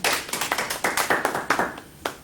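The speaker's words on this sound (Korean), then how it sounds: "우리 박수 드리겠습니다." Congregation clapping in a church service after a prayer, a brisk series of close, sharp hand claps in a loose rhythm that thins out and stops with one final clap.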